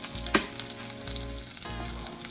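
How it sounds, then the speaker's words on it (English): Food sizzles steadily in a hot pan, a dense crackling hiss with occasional louder pops, close up and with no voices. "I fried these ones instead, and you get the same kind of effect."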